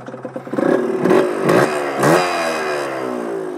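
A Yamaha DT 125 two-stroke motorcycle engine revs hard and close, climbing through several quick throttle blips before holding a high, buzzy pitch.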